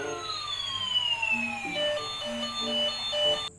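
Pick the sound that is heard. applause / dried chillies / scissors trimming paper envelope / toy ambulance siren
toy ambulance siren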